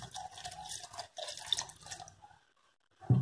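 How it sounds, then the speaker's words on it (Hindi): Cold water poured from a glass into muskmelon juice with lemon juice, a close splashing, trickling pour lasting a couple of seconds before fading to quiet, ending with a soft thud. "एक ग्लास ठंडा पानी डालूंगी"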